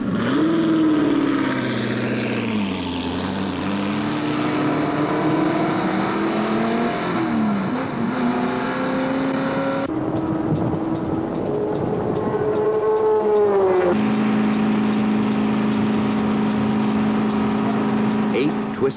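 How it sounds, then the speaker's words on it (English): Expensive Ford sports racing cars lap a road racing track at high speed, engines roaring and shifting pitch as they pass and accelerate, loud and continuous under someone talking. "These are extremely expensive, all-out sports racers developed by Ford Motor Company"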